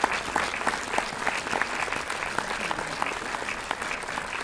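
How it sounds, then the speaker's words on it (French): Steady, dense audience applause for filmmaker Fabienne at a preview screening of the film Le Répondeur in Orléans, a full room of hands clapping continuously without a pause. "je vous demande d'applaudir Fabienne pour ce film."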